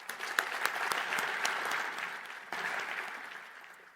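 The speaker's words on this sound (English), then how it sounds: "A big round of applause for Denise." Audience applause at an awards-style event honoring young innovators, a steady wash of clapping from a crowd with a few sharper claps standing out, moderately loud and sustained throughout with no talk.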